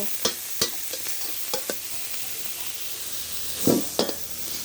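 Minced pork stir-fries in a pan for kaphrao, with a quiet steady sizzle broken by sharp scraping stirs and clacks of a utensil against the pan, close and faint.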